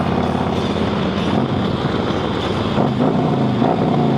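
Motorcycle fitted with a Vance & Hines exhaust cruising along, a loud, steady engine drone with constant low rumble and wind rush, no voices.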